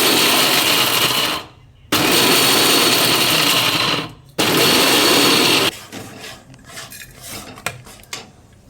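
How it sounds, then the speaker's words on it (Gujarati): A mixer grinder grinding roasted cashews and almonds runs loud and close in three bursts with short pauses between them, followed by rattling and clatter as the jar is handled. "હવે આપણા કાજુ બદામ સરસ શેકી દીધા હતા એને આપણે મિક્સરમાં ગ્રાઇન્ડ કરી દઈશું"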